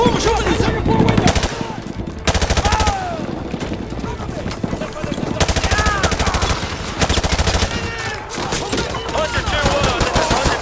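Rapid machine gun fire rattles almost nonstop in the Modern Warfare 2 video game, loud and dense, with bursts layered over a busy battle background.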